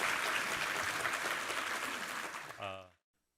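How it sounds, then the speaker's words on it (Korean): A church congregation at a Sunday worship service claps in steady, full applause that stops abruptly, followed briefly by a speaking voice. "우리 하나님께 감사와 영광의 박수 올려드리겠습니다."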